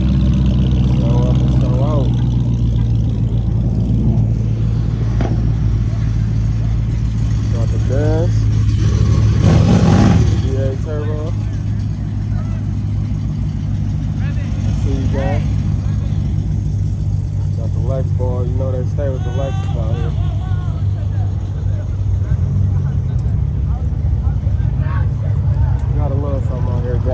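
A Mopar car at a JDM car meet rumbles through a loud exhaust, with deep steady engine noise and one surge of revving partway through, under nearly constant crowd chatter and talking.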